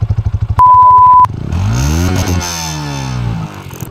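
Motorcycle engine revving through its exhaust silencer on a hill ride, starting with rapid idling pulses, broken by a steady electronic beep, then a loud rising and falling rev that sweeps up and settles.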